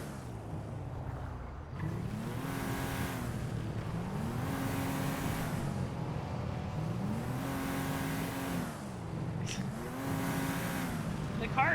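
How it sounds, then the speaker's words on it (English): Loud car engine in the video game GTA NoPixel, revving up and down in repeated surging cycles, steady and close throughout. "The car is also really fucking loud,"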